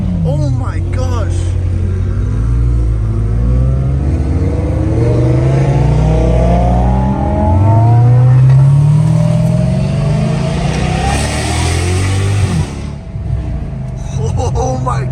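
A catless Dodge Challenger Hellcat Redeye engine revs and roars loudly at night, with a rising pull around the middle and a steady heavy rumble throughout, while people talk over it.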